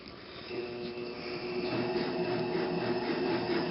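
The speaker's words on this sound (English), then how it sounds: "Now I'm going to turn on the motor." An electric motor on a hair mat machine running with a steady mechanical hum and faint rubbing whir, holding even and close with no voices.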